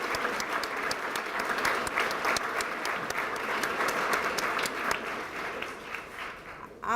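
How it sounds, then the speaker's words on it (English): Audience applauding the staff at an adult drug treatment court graduation in Richmond, steady sustained clapping filling the room for several seconds before tapering off at the end. "Let's give them a round of applause."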